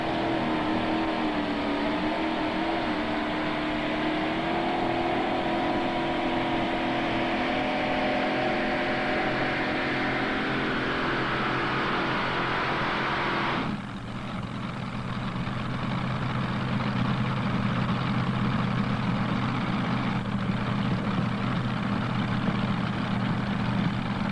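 A blown Chevrolet drag racing engine at a 1995 Turkey Day event in Imlay City, Michigan, rumbles loudly and steadily, idling and revving with a deep harmonic drone that shifts abruptly midway, with no talk over it.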